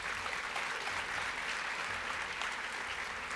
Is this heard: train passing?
no